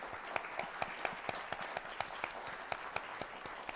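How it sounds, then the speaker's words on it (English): An audience applauds a discussion panel, with sustained clapping from a modest crowd at middle distance and individual sharp claps standing out in an uneven rhythm over a few seconds. "So let's give them one more round of applause."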